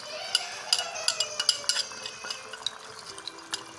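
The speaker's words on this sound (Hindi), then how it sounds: "अब हम इसमें डालेंगे दही, जिसमें मैंने कढ़ाई मसाला ऐड कर दिया है।" Yogurt mixed with karahi masala being stirred into a mutton karahi, with a run of close, sharp clinks and scrapes of a spoon against the metal pan over a faint wet background, no talking.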